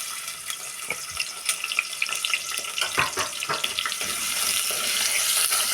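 Chopped onion hitting hot oil and ghee in a pan, a bright crackling sizzle with scattered pops that builds into a steady, fairly close frying hiss.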